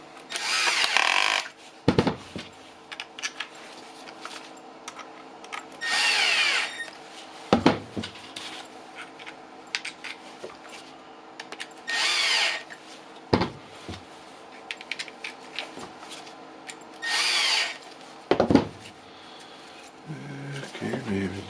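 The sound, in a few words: cordless drill powered by DIY Makita battery pack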